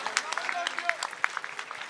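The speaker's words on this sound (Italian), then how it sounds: "Un applauso al ragazzo e poi il signore." An audience claps for a young man at an Italian talk event on technical education, a short burst of scattered, moderately close applause with overlapping hand claps.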